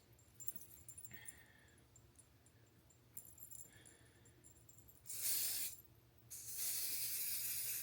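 Two short bursts of hairspray hiss, close and loud, following quieter clinks and faint rustling.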